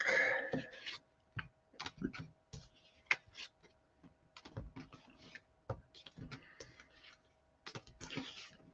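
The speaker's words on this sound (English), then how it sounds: "by yourself, it takes a little bit longer to shuffle, and total different deck" A tarot card deck is shuffled by hand, producing quiet, scattered clicks and soft flicks of cards at an uneven pace, with brief pauses in between.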